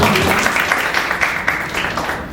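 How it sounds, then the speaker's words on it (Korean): An audience at a Korean women's policy debate forum applauds, a loud burst of clapping that gradually fades out. "박수로 맞이해 주십시오"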